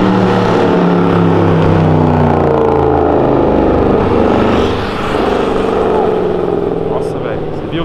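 A Mitsubishi Lancer Evo 9 engine revs loudly and continuously up close, a dense roar with shifting pitch running throughout, while voices talk over it.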